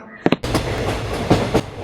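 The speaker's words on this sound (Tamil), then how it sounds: "ட்ரெயின் அந்த பொண்ணுக்கு ஏறின உடனே போக ஆரம்பிச்சிடுச்சு." A train pulling away in a horror short film, with a couple of sharp knocks and clanks at first, then a broad rumbling rush and rhythmic rail clatter, fairly close.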